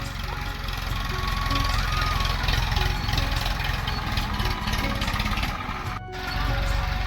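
A tractor engine drones steadily on a village farm field, a continuous low rumble with faint mechanical rattling throughout.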